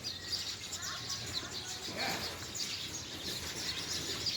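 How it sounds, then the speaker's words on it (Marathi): House sparrows chirp in a babul tree in the countryside, faint scattered tweets at a distance under a quiet, noisy background. "त्यांचा चिवचिवाट चालू आहे."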